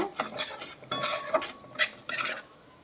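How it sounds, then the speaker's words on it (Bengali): Dry ground spices, coriander and Kashmiri chili powder among them, are stirred in a pan with a metal spoon, giving a series of close scraping and clinking strokes with a faint sizzle and short pauses between them. "সব শুকনো মশলা দিয়ে ভালো করে একটুখানি কষিয়ে নেব"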